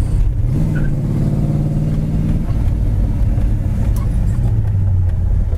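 A 1969 Pontiac GTO on the move, its V8 holding a loud, close, rumbling drone that swells briefly as the revs climb and then settles back into a steady cruise.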